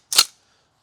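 An airsoft rifle fires a single sharp, dry snap through a chronograph, loud and close, with a very quick decay and silence after.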